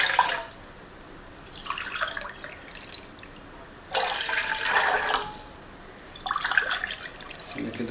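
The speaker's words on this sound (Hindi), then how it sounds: "देखिए दोस्तों, हम 3 कप पानी इसमें हम डाल दिए हैं।" Water is poured into a pan for tulsi tea in three separate splashing bursts, each a second or so long, with quiet gaps between them.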